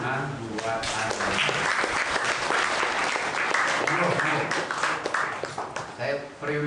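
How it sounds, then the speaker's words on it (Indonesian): An audience at a talk breaks into sustained, dense applause, loud and close, holding steady for several seconds before thinning toward the end. "Silahkan tepuk tangan buat Anda."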